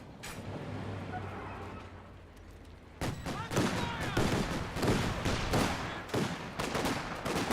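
Rapid gunfire rattles from a Company of Heroes 2 battle, with a quieter stretch giving way to dense, repeated bursts of shots and blasts, loud and continuous.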